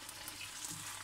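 Ribs and vegetables fry in a pan, giving a steady, faint hiss of sizzling with no other sound over it.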